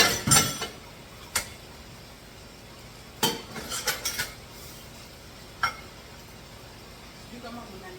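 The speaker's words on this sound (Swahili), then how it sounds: "Acha tuoshe vyombo sasa." Dishes and cutlery being washed at home, with sharp clinks and clatters of utensils and crockery coming in scattered bursts, some close together and others isolated, over a quiet background.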